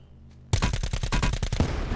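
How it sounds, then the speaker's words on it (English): Rapid bursts of gunfire in the Black Ops 4 Blackout battle royale game, a loud close string of about ten quick shots after a moment of near silence, with no talk. "I'm hoping that's him shooting the other guy with the barricade."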